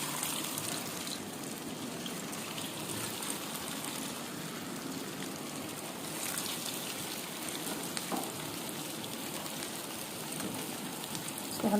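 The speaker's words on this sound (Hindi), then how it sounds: "कबाब को फ्राई करने लगे हैं।" Chicken gola kebab made from raw minced chicken frying in hot oil over low heat, giving a steady, dense sizzle and crackle that runs unbroken throughout, close up, with no talking.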